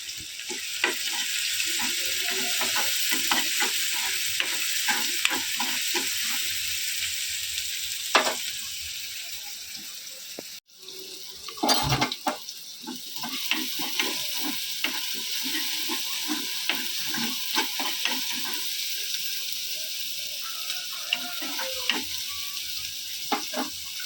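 Semolina for upma sizzles and hisses steadily in a hot pan while being stirred, with repeated scraping strokes and one sharper clatter midway. No one speaks.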